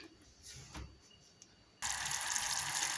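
Water pours into a pot of sugar, starting with faint scattered drips and clinks, then a sudden steady gushing stream from about halfway through, close and fairly quiet.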